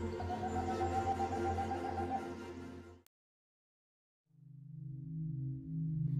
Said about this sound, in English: The boreal owl is a secretive resident of North America's northern forests. It primarily feeds on small mammals and has a haunting, melodic call.